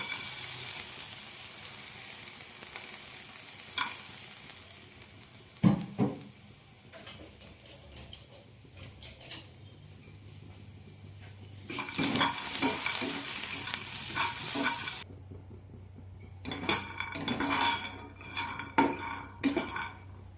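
Ghee heats in a kadai while a metal spoon stirs and scrapes, giving repeated clinks and clatters over a soft, steady sizzle, with a brief burst of louder frying midway and no talking.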